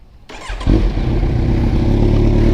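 A Kawasaki Z900 fitted with a Yoshimura full exhaust cranks on the starter, then catches and settles into a loud, deep, rumbling idle, close by.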